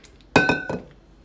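A utensil scraping and clinking against a dish while scooping strawberry cake filling, one sharp clink followed by a couple of softer scrapes, close and fairly quiet.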